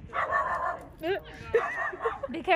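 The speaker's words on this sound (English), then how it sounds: "Be careful, there's a dog." A dog yips and whimpers in short high-pitched bursts, mixed with people talking nearby during a music video shoot.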